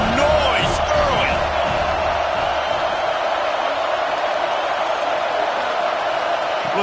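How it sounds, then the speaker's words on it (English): A stadium crowd in the NCAA 26 college football video game keeps up a steady, dense roar, with a few faint whoops early on, under a commentator's voice. "This crowd bringing the energy and noise early."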